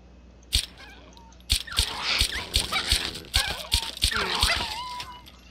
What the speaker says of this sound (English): Vicious dogs.